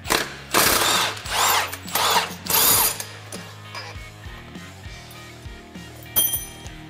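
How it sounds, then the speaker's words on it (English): A 21 mm socket wrench works the primary clutch bolt loose on a Polaris Ranger, giving bursts of close ratcheting clicks and metallic clinks in short uneven spells, then quieter handling noise with no talk. "We'll grab our 21 millimeter and we'll remove the bolt out of the primary."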